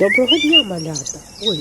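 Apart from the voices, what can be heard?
birds singing in the yard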